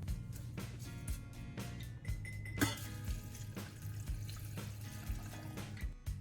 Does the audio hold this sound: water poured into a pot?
yes